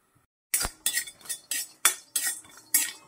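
After a brief silence, a utensil scrapes and clinks against a pan of roasting coconut slices in quick repeated strokes, about eight sharp metallic scrapes in a steady rhythm.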